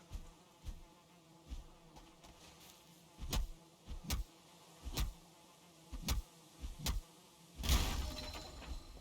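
Bees from the video game Valheim, heard as a low insect drone with repeated short sharp hits and thuds recurring every second or so, closing on a louder burst.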